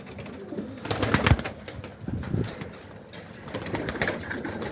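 Very large, robust male pigeons in an aviary coo in overlapping rolling bursts, near and fairly loud, with a few rustles between calls.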